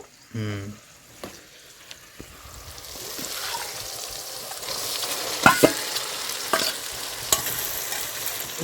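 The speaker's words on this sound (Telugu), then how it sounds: "చికెన్ వేసుకుందామండి ఇప్పుడు" Chicken pieces hit a hot pan for a village-style chicken pulusu curry, with a brief sharp clatter at the start followed by a steady low sizzle and intermittent scraping stirs and clinks over several seconds.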